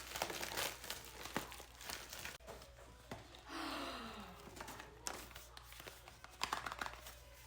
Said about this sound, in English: Let's open my Ipsy packages. Start out with the glam bag.